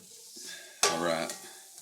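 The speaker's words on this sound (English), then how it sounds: "I'm going to get these onions sauteed" Onions sautéing in butter in a sauté pan give a sudden loud sizzle as they hit the heat, a bright hiss lasting about half a second before easing off, with a voice heard faintly near the end.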